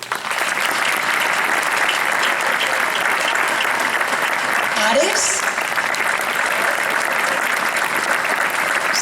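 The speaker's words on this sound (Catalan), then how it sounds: "per favor un fort aplaudiment per a Gemma" A theatre audience gives performers a long, loud round of applause as they are introduced at the start of a music show, with a voice briefly speaking over the steady clapping.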